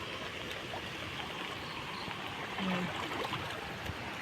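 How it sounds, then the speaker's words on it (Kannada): A rain-swollen river flows with a steady rush and broad, constant hiss, moderately loud and unbroken throughout. "ನೀರು ತುಂಬಿದೆ ನದಿಯಲ್ಲಿ ಎಷ್ಟು ತುಂಬಿದೆ"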